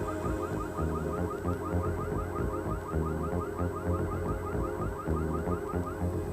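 A car alarm blares during an attempted car theft, a loud repeating electronic siren with rapid warbling sweeps cycling steadily and continuously, with no voices.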